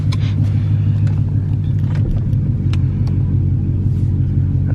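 A 2018 Dodge Charger Daytona 392 runs with its engine rumbling loudly and steadily up close as the car drives, a dense low growl held without pause.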